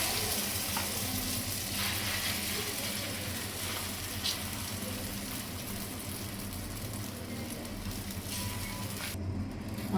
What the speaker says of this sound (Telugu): ఆమ్లెట్ని మీడియం టు సిమ్ ఫ్లేమ్లో పెట్టుకొని రోస్ట్ చేసుకోవాలి